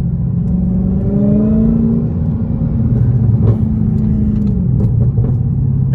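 Dodge Hellcat fitted with a cold air intake driving in traffic, its engine giving a loud steady rumble with gentle rising revs rather than hard acceleration, heard close and alone.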